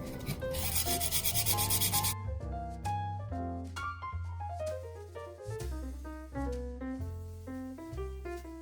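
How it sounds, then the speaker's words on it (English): A small sanding pad rubs along the edge of a reverse decoupage dessert plate in quick, steady scraping strokes for about two seconds, then stops while background music plays on alone. "These little sanding pads are really handy."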